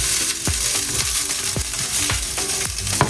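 Hamburger fried rice frying in a pan, with a steady broadband sizzle and repeated scraping stirs of a utensil against the pan, close and loud, with no talking.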